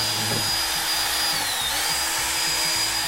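A power tool runs steadily while creamed honey is being made, giving a continuous close whirring drone with a faint higher whine, no pauses and no voices.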